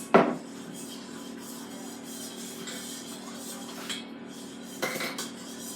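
Water and melted butter being stirred together in a mixing bowl for cake pops, giving a steady soft scraping and clinking of a utensil against the bowl, with a sharper knock at the start and another near the end.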